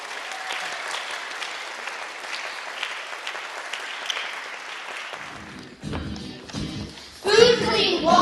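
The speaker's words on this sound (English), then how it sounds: "Give yourselves a round of applause." Children applaud themselves at a child-rights program, a steady wash of clapping for about five seconds that thins out, followed by young voices and a few thumps near the end.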